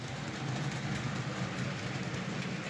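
A Heljan model Class 33 diesel locomotive runs along model railway track, giving a steady, continuous mechanical whir and rumble with faint rail clatter, close and even throughout with no talking.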